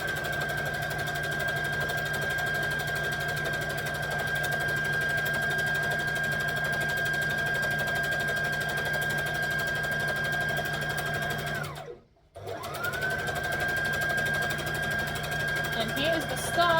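A domestic sewing machine runs a seam on a Kwik Sew K4172 garment, a steady mechanical whir and hum that stops abruptly for a moment, then starts up and keeps stitching again.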